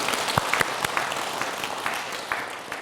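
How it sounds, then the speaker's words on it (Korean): Audience members at a Buddhist dharma talk give a modest, scattered round of hand clapping, with individual claps clearly distinct and no voices over it. "박수 한번 크게 쳐주자고요."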